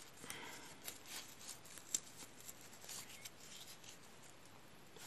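Scissors cutting a ribbon close up, a few soft snips and rubbing sounds, quiet and intermittent with no talk.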